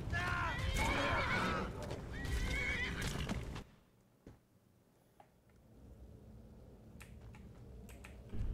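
A horse in the Skyrim video game whinnies loudly at the start, with hoof clatter and game effects mixed in, then fades to a quiet ambient stretch with a few faint clicks.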